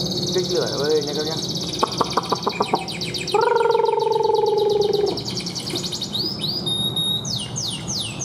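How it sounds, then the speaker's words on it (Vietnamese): A caged songbird sits close by, giving repeated sharp chirps, then a sustained whistled note and rising whistled phrases, loud and near. "Chim mà rất là muốn hót rồi các bác nhá"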